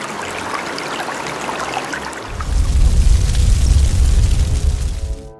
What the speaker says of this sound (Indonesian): sang naga kembali muncul dan menyemburkan apinya